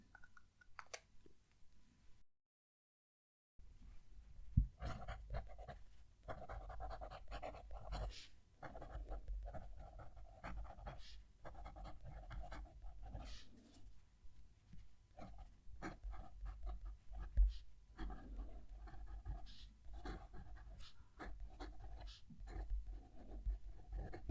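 Kaweco Sport fountain pen with a broad nib scratching steadily across paper, a close, continuous scritching with short strokes and pauses, including one brief silent gap near the start.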